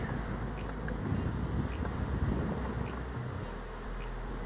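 Honey bees buzzing around a hive with honey supers outdoors: a steady, dense, moderately loud hum, partly mixed with wind noise on the microphone, and no voices.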